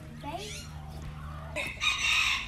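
Chickens cluck close by in a few short, sharp calls, with people talking softly around them.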